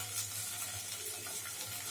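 Paneer cubes shallow frying in oil in a pan for palak paneer, a steady broadband sizzle and hiss, close and continuous with no voices.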